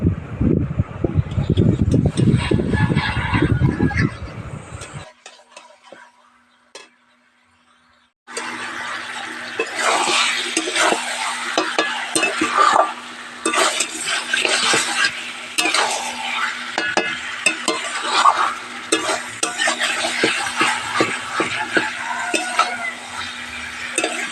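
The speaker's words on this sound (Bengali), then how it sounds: "কিছুক্ষণ চিকেনটা ভালো করে কষিয়ে নিয়ে এবার ভেজে রাখা আলুটা দিয়ে দিচ্ছি" Chicken frying in a pan for a spicy chicken and potato curry, brief loud oil hiss, a near-silent pause, then sustained sizzling with frequent close scraping and stirring strokes.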